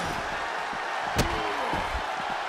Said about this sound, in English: Get them in the ambulance and slam the doors